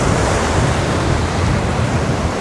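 Wild summer sea waves break on the Bristol Channel shore in a constant, loud roar of surf mixed with gusting wind, with no one talking.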